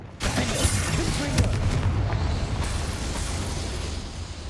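A Confringo spell explodes in the Hogwarts Legacy video game: a loud, sustained booming blast with rumbling low end that runs for several seconds without pause.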